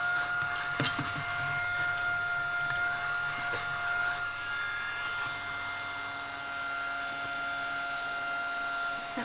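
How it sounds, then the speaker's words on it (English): A vacuum cleaner runs steadily while it is pushed over an old book during repair work. The motor holds a constant whine with rubbing bursts from the nozzle early on, close and continuous throughout. "So I'm actually gonna hit the book itself with the vacuum."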